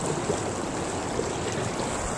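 Floodwater surges through a culvert near the Harvey Country Club, a steady, dense rushing roar with constant turbulence and no pauses, close and fairly loud throughout.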